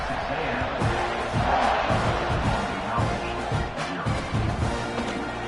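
A stadium crowd at a college football game between Texas A&M and Boston College roars and cheers in a continuous wash of noise, with a commentator's voice running over it.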